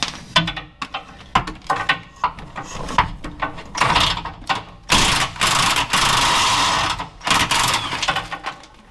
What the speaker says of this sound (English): Hopefully we can use the cordless gun for this one.